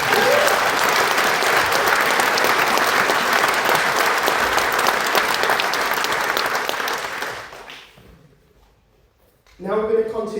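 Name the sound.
audience applause for a brass band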